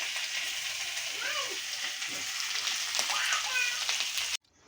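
Chicken frying in a pan over a wood fire, giving a steady, close sizzle and crackle with faint stirring, no speech, cutting off abruptly at the end.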